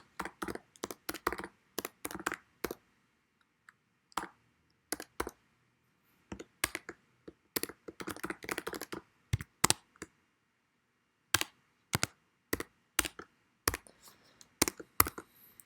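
Bursts of close keyboard typing as code is entered on a computer keyboard, quick clattering keystroke runs separated by short pauses, with no talking.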